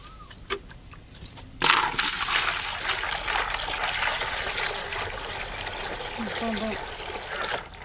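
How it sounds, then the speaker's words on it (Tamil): Water pours steadily into a pot with a gushing, trickling hiss that runs for several seconds after a brief knock, close by. "சரி அடுத்து தண்ணி ஊற்றிடுவோம்."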